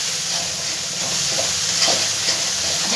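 Four slit green chillies drop into spice paste frying in oil for a fish and moong masoor dal dish, raising a close, steady sizzle and hiss with faint stirring.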